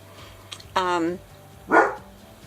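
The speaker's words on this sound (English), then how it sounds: "I'm sorry about my dog barking" A dog barks twice indoors, two separate loud barks a moment apart, close by against a quiet background.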